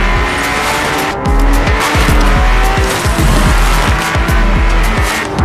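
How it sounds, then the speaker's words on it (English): Ferrari F80 with V6 engine driven hard on a race track, a loud, close engine roar with rapid gear-change pulses and tire squeal running continuously without speech. "This V6 is amazing."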